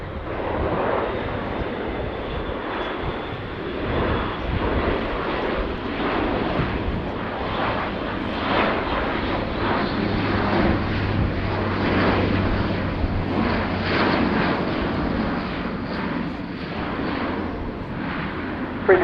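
An Airbus A400M turboprop transport flies slowly overhead at the RIAT 2019 airshow while refuelling helicopters, giving a loud, continuous, rumbling propeller drone that holds steady throughout.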